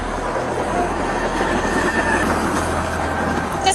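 A train rolls past close by after striking a police patrol car at a crossing, giving a steady loud rumble of rail cars and wheels with faint squealing, and no voices.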